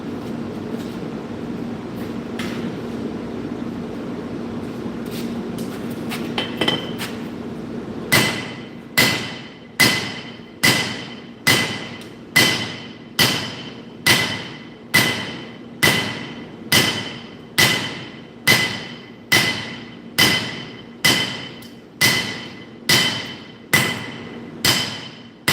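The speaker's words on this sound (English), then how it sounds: "And I will switch back to that other hammer now" Quiet workshop hum gives way to a steady series of heavy hammer blows forging steel for nakiri knife blades, about twenty loud, ringing strikes evenly spaced roughly a second apart.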